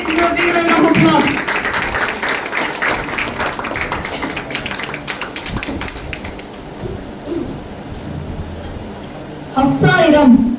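Audience members at a final-day celebration at an ITI clap for students called up by name, loud sustained applause under a voice speaking, tapering before a brief burst of louder sound near the end.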